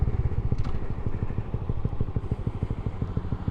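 A Honda Grom motorcycle rides along with a steady, rapid engine thrum and pulsing exhaust beats throughout. The sound is close and fairly loud, with faint clatter mixed in and no speech.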